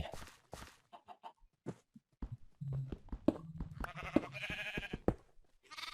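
Chickens in the Minecraft video game cluck in a run of short, clipped game calls with some animal bleats mixed in, moderately loud and close, with no talk over them.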